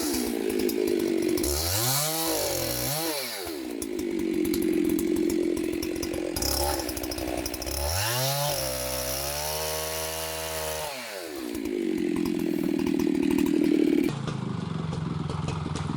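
A chainsaw cuts down a beetle-damaged spruce tree, the engine revving up and down in loud surges with high whining bogs as the chain bites into the trunk, running continuously throughout.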